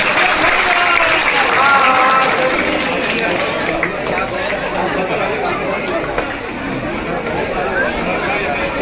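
An audience claps at an honouring ceremony for saints and a devotee community. Sustained, dense applause fills the space, with a voice and crowd chatter over it.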